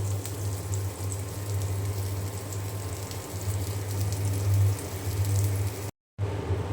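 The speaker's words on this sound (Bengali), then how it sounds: "আমি এখানে যে ডিম ভেজে নিচ্ছি ডিম আমি কড়া করেই ভাজবো" Eggs fry hard in a pan with a steady, close, broadband sizzle and crackle, with no talk and a brief cut near the end.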